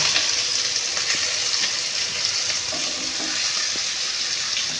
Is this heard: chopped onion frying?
yes